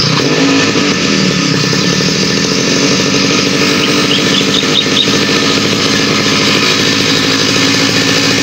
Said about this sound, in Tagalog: mag-grass cutter nga tayo dito sa may pupo